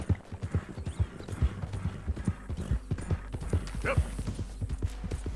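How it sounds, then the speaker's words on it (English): Rhythmic clip-clop of horse hooves at a steady gait in the video game Red Dead Redemption 2, played in VR mode, with a short neigh and a brief spoken word over the hoofbeats. "Good thing riding the horse around is so much fun."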